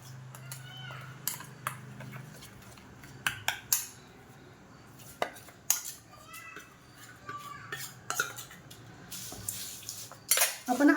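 Garlic cloves stirred and rubbed with spice masala and a little oil in a metal pan, with scattered spoon scrapes and clinks over a low steady hum.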